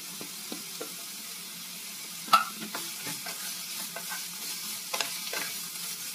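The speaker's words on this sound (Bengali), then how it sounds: "দিয়ে আবার একটু নাড়াচাড়া করে নিচ্ছি, মানে একটু ভেজে নিচ্ছি এটা হালকা করে।" Carrots and potatoes are stirred in hot refined oil, with a soft steady sizzle broken by scattered light scrapes and knocks of the spoon against the pan, one sharper clack near the middle.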